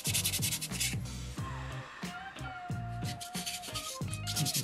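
Sandpaper rubbing over a soapstone cat carving in short, rhythmic back-and-forth strokes, close and fairly quiet, with a faint tonal squeak drifting through the middle strokes.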